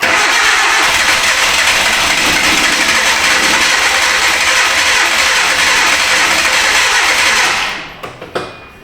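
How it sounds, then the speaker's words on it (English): Flooded engine of a 2010 Hyundai Accent cranking with the throttle held wide open, a loud steady churning drone for about seven seconds before it cuts off, followed by a few faint clunks. "sounds to me like it's flooded. Let me go to full throttle"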